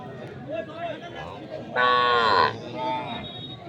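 Local deshi cows and calves at a Ranibandar village cattle market in Thakurgaon give a loud, drawn-out moo in the middle, followed by a softer second low call, over faint background market chatter.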